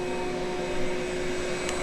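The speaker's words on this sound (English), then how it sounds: "I'll shut the vacuum off" A vacuum running steadily at a pool liner replacement, pulling the liner into place with a constant whirring drone at moderate level, faint and even, no voices.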